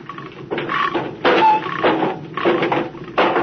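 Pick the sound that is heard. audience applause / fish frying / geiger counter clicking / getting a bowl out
geiger counter clicking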